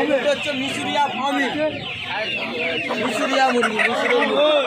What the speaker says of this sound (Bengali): দেখতে পাচ্ছ কিছু সিল্কি মুরগি কিছু রয়েছে